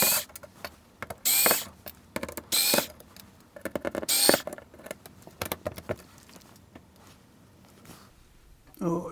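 Screws being backed out of an Apple IIc computer to free the motherboard, with close metallic clicks, creaks and small rattles in short irregular bursts, fading to quieter handling.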